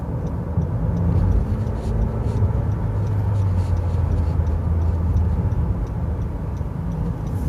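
A Honda Accord G9 with freshly fitted Monroe OES suspension accelerates into a curve, heard from inside the cabin as a steady loud low engine and road drone with faint ticking, continuous throughout.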